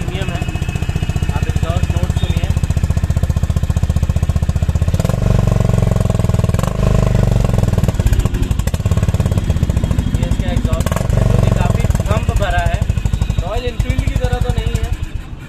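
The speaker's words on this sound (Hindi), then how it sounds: "ये आप देख सकते हो ये इसका एग्जॉस्ट नोट है जो कि काफ़ी बढ़िया है।" Honda Highness CB350 motorcycle exhaust note, a steady deep thumping single-cylinder putter heard up close and loud, with a couple of rev rises over about fifteen seconds and no talking.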